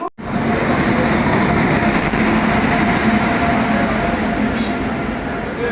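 A passenger train rolls loudly into Bhawanipatna railway station, a continuous close rumble of wheels and carriages with faint squeals, sustained for several seconds after a sharp start.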